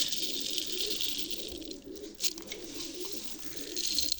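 Pigeons coo softly inside a loft, low rolling calls repeating under a steady hiss, with a brief rattling scuffle near the middle; no one speaks.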